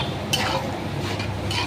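Mutton liver bhuna is stirred in a pan with a spatula, a close, continuous scraping and rustling over a faint sizzle, with a couple of brighter scrapes breaking through.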